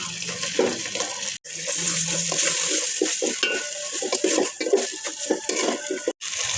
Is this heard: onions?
yes